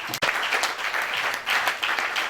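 A church congregation at a Sunday service claps together to acclaim the Lord, a steady dense round of applause filling the room, fairly loud and sustained for a couple of seconds.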